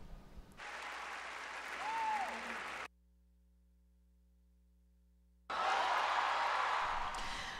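Applause for Robert De Niro at the Tony Awards, heard in two bursts of dense clapping from a large theatre audience separated by a few seconds of silence, with no voices over it.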